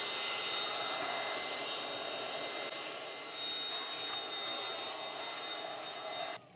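A Bissell Featherweight stick vacuum runs with its brush roll switched off, giving a steady, fairly quiet airy whine and hiss that holds for several seconds before cutting off at the end.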